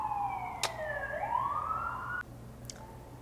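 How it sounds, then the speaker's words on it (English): An emergency vehicle siren wails in the distance as it passes, a rising and falling electronic tone that cuts off abruptly, followed by a faint trace of siren farther away over low background hum. "I'm just gonna wait for the siren to go away."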